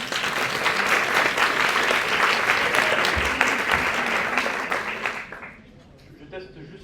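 Audience applause for a contestant at a speaking competition: loud, dense clapping from a room full of people that holds steady for about five seconds, then tapers off into near quiet.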